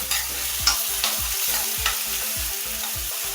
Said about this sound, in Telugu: ఇది కొంచెం ఆయిల్లో వేపుదాం